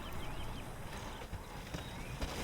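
Riders of Rohan cavalry hooves in the Battle for Middle Earth strategy game, a soft continuous clip-clop of several horses under a faint game hum, fairly quiet and steady.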